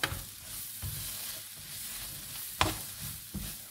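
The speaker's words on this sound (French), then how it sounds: "On mélange bien." Duck and mushroom pie filling being stirred in a hot pan, a spoon scraping through it in repeated strokes about once a second over a steady low sizzle of frying, with no voices.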